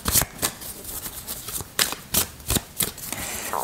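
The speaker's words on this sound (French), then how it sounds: "Je vais tirer 3 cartes" Tarot cards being shuffled by hand, close up: a string of crisp riffling bursts and slaps in an uneven rhythm, no talking.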